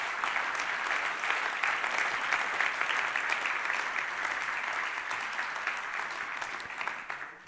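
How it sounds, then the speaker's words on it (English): Audience at a Swiss startup award ceremony applauding 25 fast-growing scale-ups, a continuous even wash of clapping from a large crowd that begins to taper at the end. "A big applause for these 25 scale-ups."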